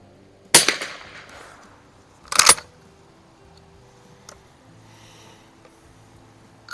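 Two sharp, loud cracks from an 1896 Schmidt Rubin target rifle chambered in .22 short, fired outdoors at a 50-yard target, each shot followed by a brief decaying echo, with a fainter click between them.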